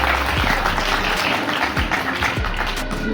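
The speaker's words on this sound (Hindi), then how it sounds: "एक बार इनके लिए जोरदार से ताली।" A crowd's loud, sustained applause with dense, steady clapping fills a college B.Ed farewell ceremony in Uttar Pradesh, with little talk.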